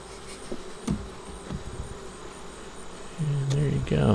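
Honey bees buzz softly and steadily at an open top bar hive during inspection, with a few sharp clicks and knocks, and a louder low hum rising near the end.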